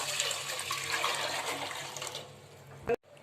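Water runs steadily into a pot for boiling with a broad rushing hiss, ending in a brief clatter and sudden silence.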